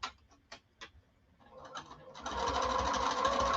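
A sewing machine stitches fabric to an eighth-inch seam after the presser foot is lifted and the work pivoted; a few soft clicks come first, then a close, steady whirring run.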